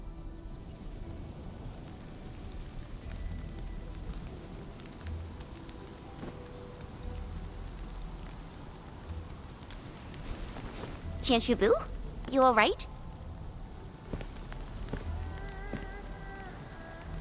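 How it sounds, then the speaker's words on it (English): Steady splattering rain in the video game Arknights Endfield, a dense broadband patter running the whole time under a voice that speaks briefly, with a few louder sweeping game effects in the middle. "Splattering rain."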